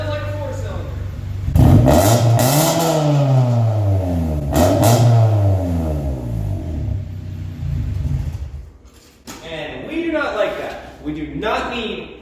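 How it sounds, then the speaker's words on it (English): A Honda engine with a raspy exhaust revs hard twice, each rise and fall loud and close, then settles toward idle as a person starts talking. "Not bad at idle, but when you rev it up, it sounds like a 4-cylinder."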